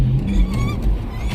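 A car pulls away from a stop with a loud, close engine note rising briefly and steadily for about a second and a half.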